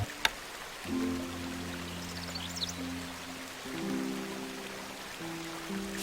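Steady rushing water hisses throughout in the video game Stronghold HD, with low sustained musical tones drifting in and out beneath it.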